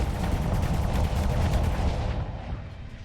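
Ship weapons in the space combat game Starsector pound away in a dense, continuous barrage of booming shots and rumbling blasts, loud and steady before thinning out toward the end.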